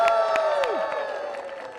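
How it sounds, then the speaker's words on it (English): A crowd at a neon sign revival at the Avenue Theater in Portola lets out a loud, close whoop and cheer together, with a falling shout and a few claps, fading gradually. "on the count of 3, I want to let out a big cheer"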